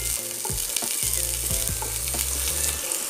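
Potatoes fry in hot oil with a dense, close sizzle and crackle, while a spoon or ladle stirs and scrapes the pan in a few quick knocks.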